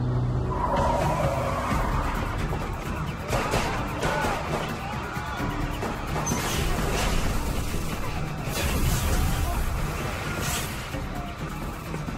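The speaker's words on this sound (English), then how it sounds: "A car. It's accelerating." A car accelerates fast with tires skidding and squealing, loud and close, mixed with engine roar and scattered crashes or impacts in a tense street scene.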